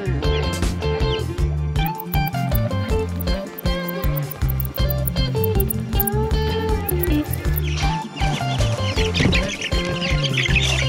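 Young chickens, including a featherfoot, clucking and chirping near their coop, busy overlapping calls close by throughout, with a person's voice briefly mixed in.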